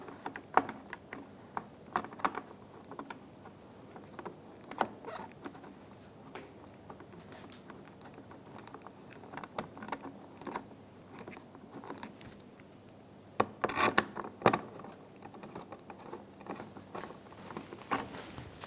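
Screws being driven into a license plate bracket on a 2007-2011 Toyota Camry, heard as close, intermittent clicking and ratcheting taps spread across the clip, with a denser burst of clicks near the end.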